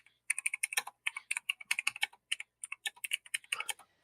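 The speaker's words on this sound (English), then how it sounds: "I don't need y'all hearing how fast these keys are about to." Rapid typing on a computer keyboard produces a fast, irregular stream of crisp clicks and key taps, close and fairly quiet, with no voices over it.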